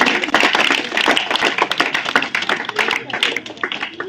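A class of students claps for a classmate's spelling test score, a brisk run of distinct hand claps that starts dense and thins out toward the end, with voices talking in the room.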